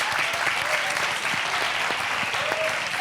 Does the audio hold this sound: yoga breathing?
no